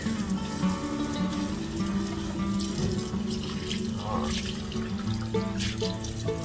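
Hot water pours steadily from a tap into a kitchen sink during the cleaning of a cast iron pan, a close, continuous splashing rush with a faint hum beneath it.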